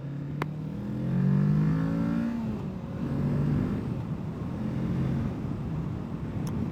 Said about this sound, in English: I could probably roll away from this, not even give acceleration at first